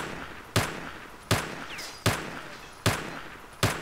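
Gunfire in a firefight with bandits in STALKER: five sharp single shots at a steady, evenly spaced pace, each echoing briefly, with faint ambient noise between.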